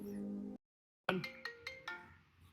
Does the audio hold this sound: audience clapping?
no